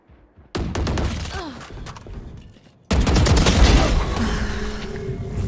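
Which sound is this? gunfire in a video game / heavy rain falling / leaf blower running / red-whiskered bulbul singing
gunfire in a video game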